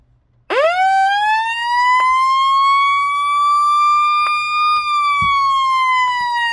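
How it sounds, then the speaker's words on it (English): A Radio Shack siren being tested indoors: one loud, steady electronic wail that starts abruptly, rises and holds a long sustained tone with slight pitch drift, with a few faint clicks and a brief bump underneath. "So it's just a siren."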